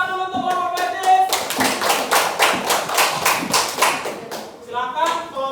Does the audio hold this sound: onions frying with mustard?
no